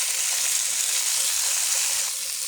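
Small mola fish drop into hot spiced oil and sizzle, a bright continuous hiss that is loud and close, with no voices.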